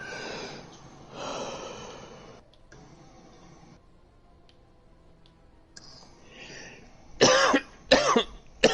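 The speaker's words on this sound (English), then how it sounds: "You sound like you're about to cough up a lung." A person in a game session coughs and clears their throat, with three loud, close bursts near the end after quieter breathy, throaty sounds earlier.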